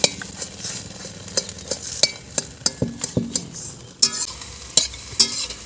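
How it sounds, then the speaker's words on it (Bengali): An egg fries in a pan and is stirred while cooking for a Maggi noodle dish, with a soft continuous sizzle. Frequent sharp clinks and scrapes of the utensil against the pan come close and clear, with no talking. "দেখুন আমার ডিম ভাজা হয়ে গেছে কত সুন্দর ঘুরে ঘুরে হয়ে গেছে"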